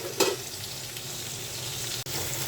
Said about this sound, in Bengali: এখানে আমি চিংড়ি মাছটা কেটে আগে তেলের উপর ভেজে নিচ্ছি।